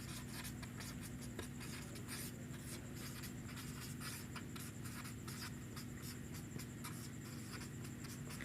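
Chalk or marker writing out example sentences on a classroom board, a steady scratchy scraping in short strokes over a constant low hum, faint and continuous with no talk.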